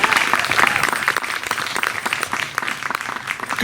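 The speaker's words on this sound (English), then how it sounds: "let's just give them another round of applause." An audience applauds a performance by young artists in a stage session, steady, dense clapping filling the room throughout, loud and close.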